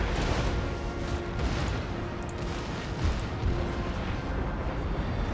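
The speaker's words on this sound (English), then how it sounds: "Oh god, still firing chain shot." Ship cannons in the Empire: Total War naval battle fire chain shot, a dense, continuous rumble of booming broadsides and blasts rolling on without pause, loud and heavy with no talk over it.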